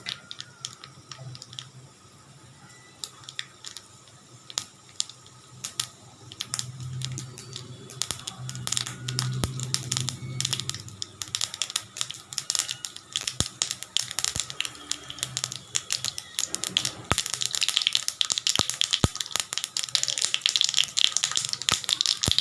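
Dense crackling and popping of mustard seeds and urad dal spluttering in hot oil, building steadily louder and busier toward the end, with no voices.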